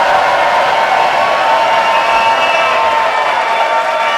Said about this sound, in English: we are going to see how well you can cheer to welcome our guests to the stage